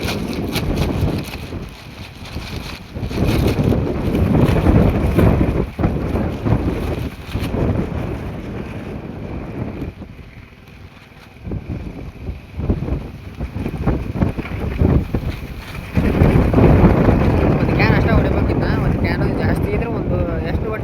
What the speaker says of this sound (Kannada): ಗಾಳಿ ಅಂದ್ರೆ ಬರೋಬ್ಬರಿ